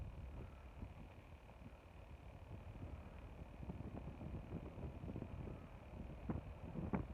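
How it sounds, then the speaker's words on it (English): Wind picking up at Sky Lake on a January hike, a low rumbling buffet with gusty swells that strengthen toward the end, heard outdoors with no talk. "I don't know if you're hearing that wind, but it is definitely picking up."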